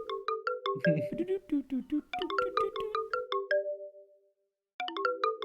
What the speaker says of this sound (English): Oh, it's a fucking phone.